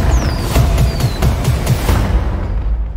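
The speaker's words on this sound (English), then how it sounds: "Are those fireworks?" Fireworks exploding in a movie trailer, a rapid run of loud booming bursts with whistling streaks overhead, dense and continuous before fading at the end.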